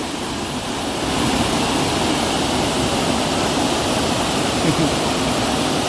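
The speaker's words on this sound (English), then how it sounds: "You want to go see what the waterfall is like?" Steady broadband rush of a waterfall at an outdoor swimming spot, loud and continuous with no breaks, the roar filling the scene without any clear voices.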